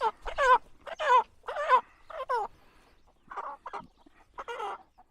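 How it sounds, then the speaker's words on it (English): Several young meat chickens clucking nearby in short bursts, with brief pauses between clusters of calls and no voices. "These meat birds."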